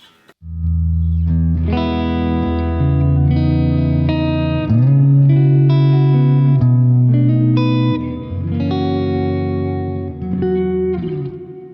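An electric guitar set to its bridge pickup with reverb added, playing a sequence of sustained chords and notes that ring out with a smooth reverberant tail, loud and close, with no talking.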